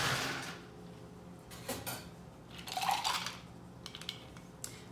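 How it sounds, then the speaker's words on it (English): Ice goes into a martini mixing glass in a few separate clinking, rattling bursts, close and fairly quiet, with short pauses between the drops and no talking. "Then we're going to add ice."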